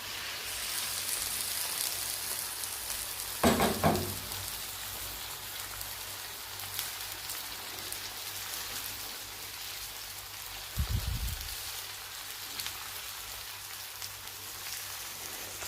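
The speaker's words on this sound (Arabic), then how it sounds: "هون بلشت البندوره تغلي، راح استنى عليها تسمك" Tomato sauce bubbling over eggplant in a pan, a soft continuous simmering hiss like light rain with a couple of brief louder clatters.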